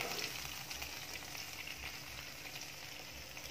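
Karimeen, pearl spot fish, fries in hot oil in a pan, giving a steady, close crackling sizzle that runs without pause and with no voices.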